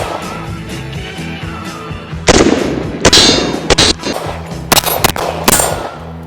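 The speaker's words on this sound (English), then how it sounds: "So now we're gonna shoot it the correct way. And she does fire." Several sharp, loud Taurus G3C pistol shots ring out at close range, spaced irregularly after a quiet start, each a hard crack with a brief metallic tail.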